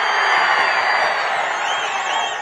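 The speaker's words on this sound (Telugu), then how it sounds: "హుషారుగా ఉంటే గట్టిగా చప్పట్లు కొట్టి హుషారుగా ఉన్నామని చెప్పండి." A large crowd at a political rally in Anantapur cheers and whoops loudly and steadily, a dense wash of voices and clapping with no pauses, close and continuous throughout.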